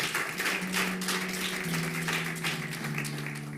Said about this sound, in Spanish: Dale un aplauso a Jesús, vea.